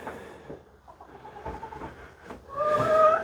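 Chickens clucking in a backyard flock with a molting rooster, soft scattered clucks and rustling followed by a louder, higher call near the end.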